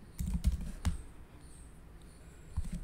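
Scattered keystrokes on a computer keyboard as a pandas fillna command is entered, a few quiet clicks in short bursts with gaps of near silence.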